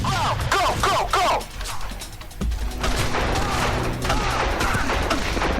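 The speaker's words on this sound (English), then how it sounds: "Snipers, commence fire!" Sniper rifle fire during a shootout in the crime video game Made Man: a rapid, dense volley of sharp gunshots crackles across the first seconds, then settles into a steady rumbling battle din with faint shouting mixed in.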